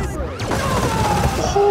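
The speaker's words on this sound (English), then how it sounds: "Oh, proton cannon." A proton cannon firing in the Streets of Rage 4 beat-'em-up, a loud sustained barrage of sweeping, crackling blasts layered with chaotic fight effects, ending in a rising tone.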